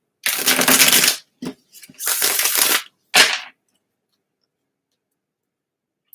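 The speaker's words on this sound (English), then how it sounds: "gonna shuffle these, just to get some good shuffling in" Tarot cards riffled and shuffled in a few quick bursts, crisp and close, with short pauses between, then silence.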